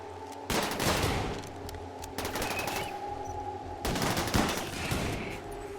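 Gunfire during Rimworld video game combat, three clustered bursts of rapid shots over a low steady game hum, moderately loud with short gaps between volleys.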